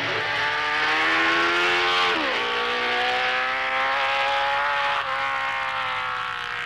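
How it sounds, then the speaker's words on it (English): Gilera racing motorcycles at the 1954 Dutch TT in Assen, heard as a loud, continuous high engine whine that drops in pitch once and then holds steady, like a bike passing close. "the Gilera going faster than any other bike as Geoff finishes his eighth lap"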